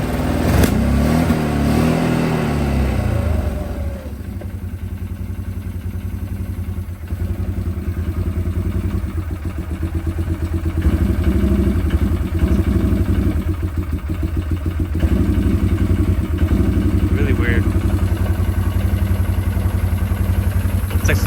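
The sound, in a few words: quad ATV engine running sporadically on one cylinder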